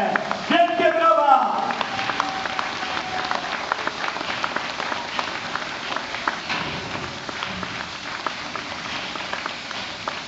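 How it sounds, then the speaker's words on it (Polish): A crowd applauds steam locomotives, including a TKT48 engine, arriving slowly at a depot during a steam locomotive gala in Jaworzyna Śląska, with dense continuous clapping that swells at first and then continues steadily under a voice on a loudspeaker. "Wielkie brawa!"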